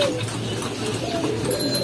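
A racer pigeon coos close by in short, soft, low murmuring notes, with faint background hum and no voices.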